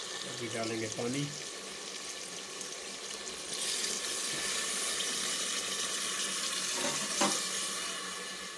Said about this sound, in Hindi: अभी डालेंगे पानी।